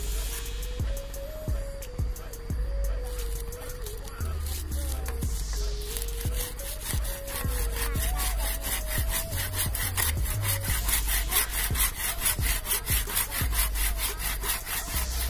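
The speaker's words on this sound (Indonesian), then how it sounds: "Kayunya cukup keras ini, kalau asam jawa ini kemarin ini jadinya agak ngedril gergajinya ya." A handsaw cuts through a hard tamarind branch to free a rooted air layer, with steady, close back-and-forth rasping strokes that run continuously throughout and no talk.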